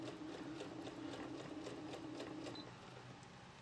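Sewing machine running steadily as it stitches a quilt seam, an even rapid mechanical patter, close and clear with no talking, easing slightly near the end.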